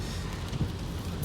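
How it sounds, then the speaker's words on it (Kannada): Heavy rain pours down in a steady, dense wash of noise, constant and fairly close, with no voices. "ಸೊ ಇವಾಗಂತೂ ಸಿಕ್ಕಾಪಟ್ಟೆ ಮಳೆ."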